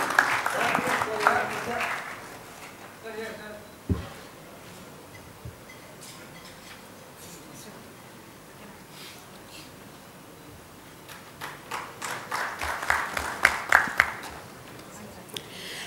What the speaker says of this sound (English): Let's have a round of applause for Mr. Ajit Jangle for beautifully moderating the session.